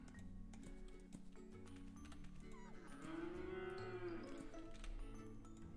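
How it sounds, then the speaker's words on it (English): A cow in a video game lets out one long, low moo in the middle, loud over constant game music and ticking interface sounds. "Move, cow."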